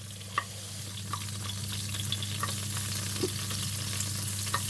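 Lardons sizzle in a frying pan, a steady close crackle and hiss over a low hum, with occasional small pops and stirring sounds.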